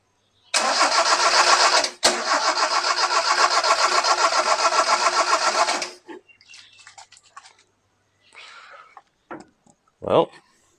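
A 1971 Toyota Celica engine cranks steadily on the starter for about five seconds during a mechanical fuel pump test, a loud rhythmic churning that stops abruptly, followed by quieter clatter and a short voice.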